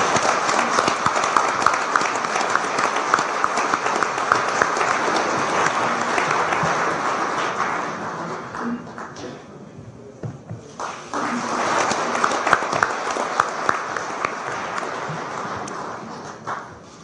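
An audience of business people at a Korean Chamber of Commerce event applauds loudly and steadily, briefly thins out midway, then swells again before fading.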